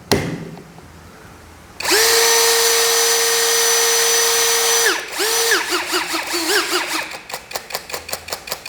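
Cordless brushless XAPR AP34 Pro drill switched on, a steady loud whine held for several seconds, a brief stop, then a restart and a string of rapid on-off trigger pulses toward the end; no voices.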